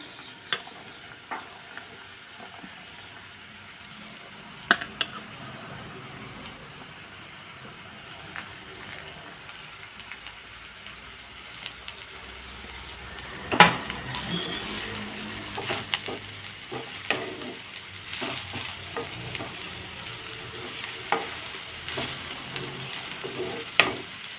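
Steady frying sizzle of bitter gourd with onions, with occasional stirring clatter from a spoon against the pan, close up, getting a bit busier in the second half.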